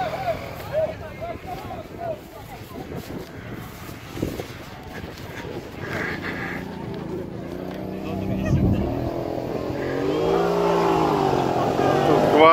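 A quad bike's engine labours and revs unevenly while struggling over rough off-road ground in a rural setting, heard at moderate distance beneath people talking and calling out.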